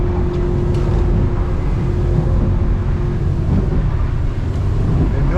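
A 26-foot Seasport fiberglass boat runs at about 32 mph on a single motor, its engine drone and hull rumble loud and steady alongside wind buffeting, with no talk over it.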